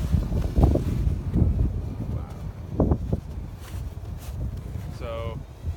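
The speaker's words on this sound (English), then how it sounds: "15-mile-per-hour winds with 22-mile-per-hour gusts at the moment" Strong outdoor wind gusts of around 15 mph, peaking near 22 mph, buffet the microphone in loud, uneven surges while a small Parrot Swing drone flies nearby, with a person talking at times.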